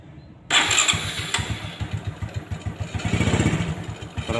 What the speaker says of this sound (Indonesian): Kita coba starter. Kita coba starter ya.